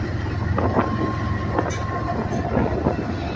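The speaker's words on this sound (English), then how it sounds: "got trains coming back into the yard" A train comes back into Maxwell rail yard in Greenwood, rumbling steadily nearby, with low rolling noise, faint metallic clicks and squeals over a continuous drone.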